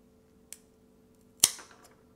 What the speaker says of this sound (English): what I'm going to do is just simply cut each leaf